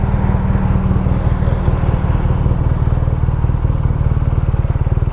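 BMW R nineT Scrambler motorcycle with a boxer twin engine, idling steadily up close, with a deep rhythmic low thump and a mechanical clatter throughout.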